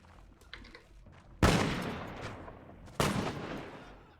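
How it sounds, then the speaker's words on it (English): Gunfire in a Japan 1564 AD video game: two loud, sharp bursts of shots about a second and a half apart, each decaying with a rumbling echo, over quieter background game noise. "Shoot, guys, shoot."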